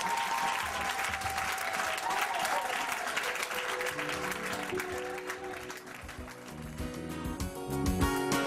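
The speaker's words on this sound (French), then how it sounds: "Applaudissez pour le Seigneur." A church congregation claps together, sustained dense applause filling the room with rhythmic hand claps, while voices and music rise beneath it toward the end.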